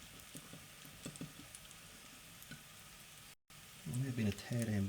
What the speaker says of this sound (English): So you can hear that's just starting to sizzle up there nicely.